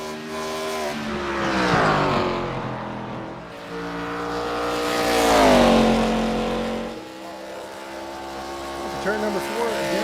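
ARCA Series stock car on a qualifying lap, engine note rising and falling as it is driven hard through turns 1 and 2, loud and continuous beneath commentators talking.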